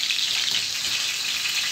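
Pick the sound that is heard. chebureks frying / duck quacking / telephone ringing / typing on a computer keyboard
chebureks frying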